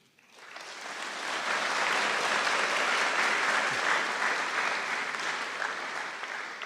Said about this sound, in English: Please give a round of applause for this year's WIAA Scholar Athlete recipients